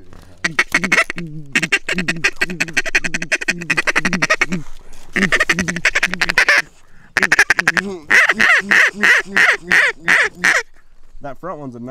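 Mallard ducks quack loudly and rapidly in a corn field during a hunt, a dense run of overlapping calls with short pauses, near and continuous across the scene.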